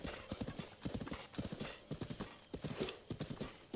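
Horse hooves clopping steadily across the ground in the video game Zelda: Breath of the Wild, a close, even rhythm of quick paired strikes that continues throughout with no other sound on top.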